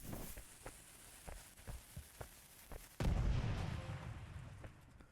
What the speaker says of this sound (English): I got this trophy for using all 5 cannonballs to destroy the wall